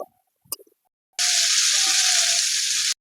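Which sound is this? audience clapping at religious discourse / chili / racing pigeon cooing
chili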